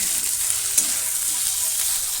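Ginger and onion fry in a pan of hot oil for coriander chicken, a loud, dense, continuous sizzle that holds steady throughout with a faint stir or two and no voices.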